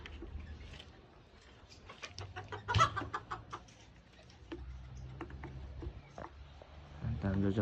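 A young rooster chick clucks in a few short bursts, fairly close, with other background noise and low voices around it.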